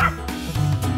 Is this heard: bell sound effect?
no